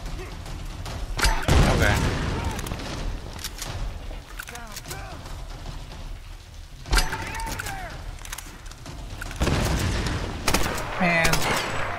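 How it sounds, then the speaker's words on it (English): Grenades exploding in the Tomb Raider video game, several sharp loud blasts spaced a few seconds apart amid gunfire and combat noise, with someone talking between them. "They blow up on contact with people and cover that is destructible."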